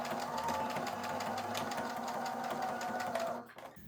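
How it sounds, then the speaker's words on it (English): A sewing machine stitches ribbon along the seam line of a pyjama garment, its rapid even needle chatter running close and steady before stopping near the end. "Then what we want to do is to stitch this ribbon in place along the seam line."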